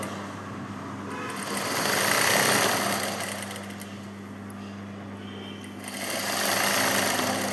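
A domestic sewing machine runs in steady bursts while top-stitching piping, its motor whirring continuously and swelling louder twice, heard alone with no talking.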